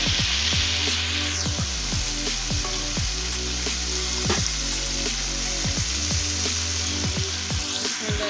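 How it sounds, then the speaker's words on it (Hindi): Garlic and ginger fry in a pan for palak chicken, a loud continuous sizzle broken by repeated clanks and scrapes of a utensil against the pan, with no voices. "ये लहसुन अदरक फ्राई हो गया है"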